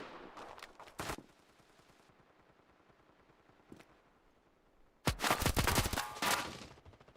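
Gunfire in the survival horror game Resident Evil Revelations, a quick rattling burst of shots at the start, a lone faint shot midway, then a loud rapid volley near the end over a quiet background.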